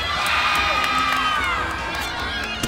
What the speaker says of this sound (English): Cheering her on hard.